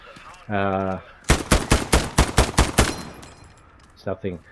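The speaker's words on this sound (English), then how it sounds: "Nothing sounds better than an M1 clip bouncing out." Rapid M1 rifle shots on a practice range in the video game Hell Let Loose: eight loud, sharp cracks fired in quick rhythm, followed by a couple of fainter reports, with a short tonal sound just before.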